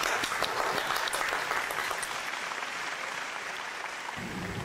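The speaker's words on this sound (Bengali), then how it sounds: "একটা হাততালি হোক জোরে।" An audience at a Rabindra Jayanti show claps steadily in a dense burst of applause that fades slightly toward the end.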